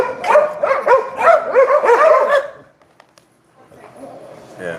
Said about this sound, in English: our dogs are acting crazy because they think this is the first exit.